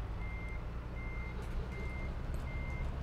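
Truck reversing alarm in Euro Truck Simulator 2, a steady series of evenly spaced high electronic beeps repeating over a constant low engine rumble, with no talk.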